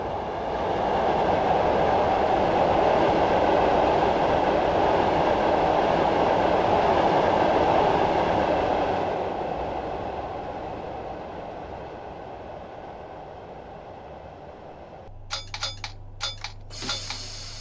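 A London commuter train in Train Simulator 2017, departing Wandsworth Road on the London Bridge to London Victoria route, rumbles loudly and steadily, then fades to a softer roll, with a few sharp clicks near the end.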